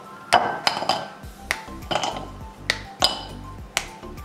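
A series of sharp cracks and snaps as dark chocolate is broken, spaced irregularly, with hard clinks against a bowl; close and crisp, no voices.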